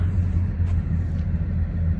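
Heavy trucks roll past on Interstate 287, a steady low rumble of engines and tires that holds at a constant level for the whole two seconds, with no voices.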